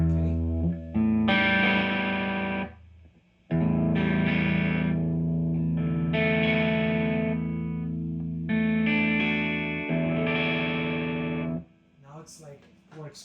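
An electric guitar with a clean tone plays through an amp over a shielded instrument cable: several long, ringing chords separated by brief breaks, then lighter, quieter picked notes at the close.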